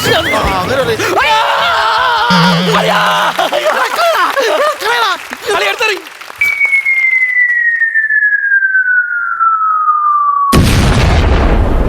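A gundu firecracker goes off: after excited voices and shouting, a long falling whistle leads into one sudden, loud boom at the end.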